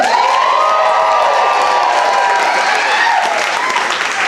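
A comedy club crowd in New York claps and cheers loudly for comedian Claire O'Kane, dense applause with whoops and shouts rising together and holding steady for a few seconds.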